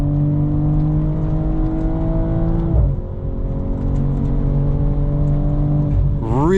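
A 2022 BMW M440i Gran Coupe's inline-six engine pulls hard uphill on a cold day, heard from inside as a loud, steady rising drone that dips briefly at a gear change before climbing again.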